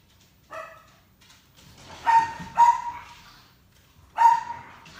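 A dog barks a few times: one sharp bark, a gap, then a quick pair and a final bark, fairly close in a quiet room.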